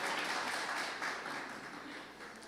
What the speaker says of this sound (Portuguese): Vamos dar palmas para Alan